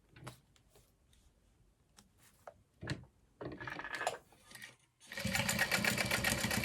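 A sewing machine stitches a box stitch on a vinyl crossbody bag strap to secure a slide adjuster, starting with a few short bursts and quiet clicks, then settling into a loud, steady run for the last couple of seconds.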